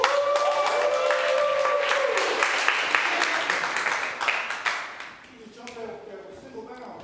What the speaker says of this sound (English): So y'all please put y'all hands together for LB, aka Lyrically Blessed.